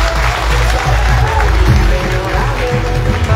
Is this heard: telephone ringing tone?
no